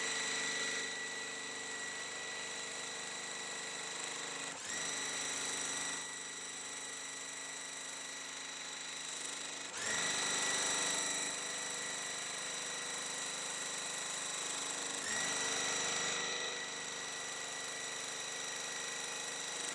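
Sewing machine stitching quilt fabric, a steady close mechanical hum with faint repetitive vibration, running continuously with slight changes in pace and no talk.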